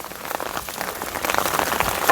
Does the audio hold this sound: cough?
no